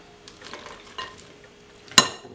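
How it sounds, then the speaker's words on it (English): Dark chocolate chunks being stirred into a no-bake popcorn squares mixture, giving soft, faint scraping and rustling strokes that end in one sharper clink near the end. "I'm going to mix that in there."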